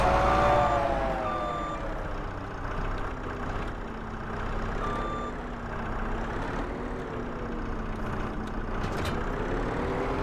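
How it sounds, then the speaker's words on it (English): A skid steer loader drives in Farming Simulator 25, its engine droning steadily while reversing beeps repeat in a regular rhythm, fairly close and moderately loud, with no talk over it. "Get the skid steer."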